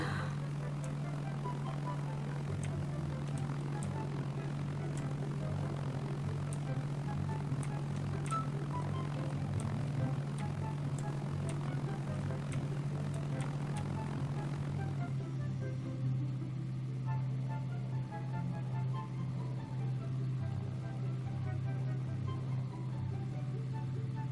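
A propeller aircraft in the video game Arma 3 comes in to land, its steady engine drone and hum holding loud and constant, then thinning slightly as the plane slows, with no talk over it.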